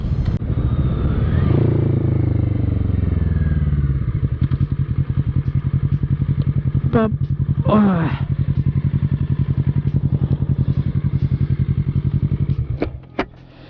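A Kawasaki Z900 and a Honda CBR650 ride together, a loud steady motorcycle engine drone close by with rising revs at the start, faint voices over it, and a few sharp clicks near the end.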